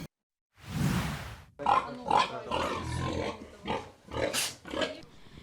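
Pigs on a pig farm grunt and snort close by in a series of short, rough bursts, one after another, with a brief silence at the start.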